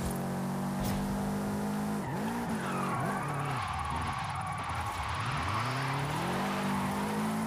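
Drifting car in the Forza Horizon 5 video game, its engine note rising and falling while long tire squeals sweep up and down continuously, loud and close, with no talking.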